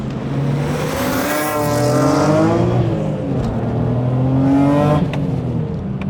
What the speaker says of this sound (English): the acceleration in this thing is just mind-blowing